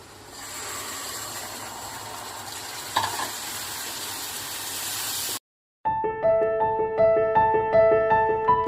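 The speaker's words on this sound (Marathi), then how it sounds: "आता आपण उकळलेली मिसळ टाकून देऊया।" Boiled misal poured into a hot pan of oil-fried masala, giving a loud steady sizzle and stirring hiss, a short pause, then bubbling and frying with metallic scraping.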